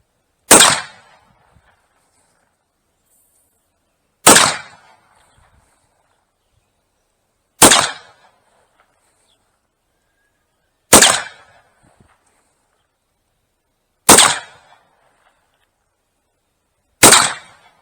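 Six sharp black powder gunshots fired during muzzle velocity testing with 3F Schuetzen powder, evenly spaced about three seconds apart, each a loud crack with a short decaying tail and silence in between.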